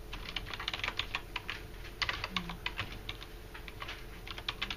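Quick, steady typing on a computer keyboard, a close run of light key clicks with a faint background hum.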